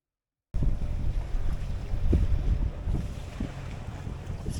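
A sailboat under way at sea on a voyage from Ipswich to Plymouth, with steady wind buffeting the microphone and low rushing water along the hull, continuous and close.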